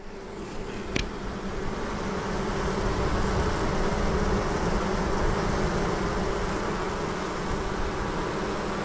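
A steady, dense drone of honey bees fanning at the entrance of a swarm box, their buzzing continuous and close, filling the air without pause, with one faint tap near the start.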